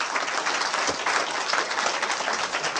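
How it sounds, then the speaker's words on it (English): Sustained applause from an audience at a talk event, a dense, steady wash of clapping at even loudness throughout with no voices above it. "Folks, let's keep it going for Clint and Robert Christie over there."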